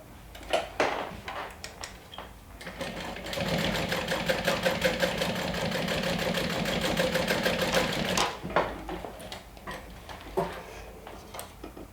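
A sewing machine runs in a single steady burst of rapid, rhythmic stitching on a folded strap, close and clear, framed by light clicks and fabric handling before and after.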